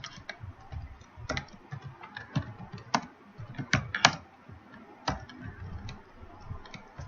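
Computer keyboard being typed on while writing code, irregular bursts of close, crisp key clicks with uneven pauses, no talking.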